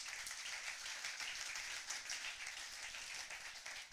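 A church congregation claps and applauds in acclaim of the Lord at a Sunday morning service, a dense, steady wash of many hands held loud and continuous throughout, with no one speaking over it.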